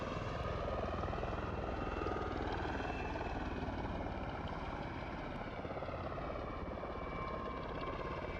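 A simulated MV-22 Osprey tiltrotor in flight in Microsoft Flight Simulator 2020, a steady, dense rotor and engine roar that holds unbroken for over eight seconds, close and loud with no voices.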